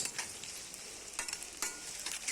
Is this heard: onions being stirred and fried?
yes